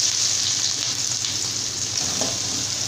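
Sliced big onions with fennel seeds and cloves frying in hot oil for Chettinad chicken gravy, a steady, close, loud sizzle with faint stirring, no voices.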